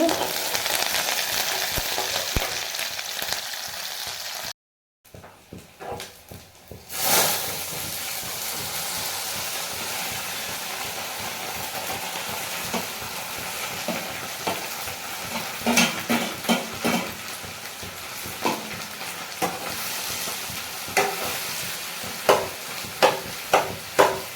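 A tadka of chillies and coriander fries in hot oil for samosas, with a continuous dense sizzle, a brief dropout early on, and later a run of sharp scraping stirs against the pan.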